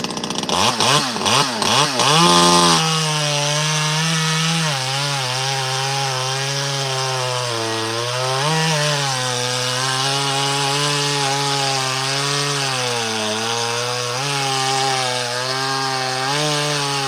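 Ported Poulan chainsaw engine running hot and strong, opening with a few sharp revs before settling into a loud, steady high-pitched whine that wavers slightly in pitch, close by with no talking.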